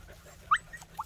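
Puppies, native Vietnamese dogs, give two short, thin whimpers close by, about half a second apart, over a quiet background.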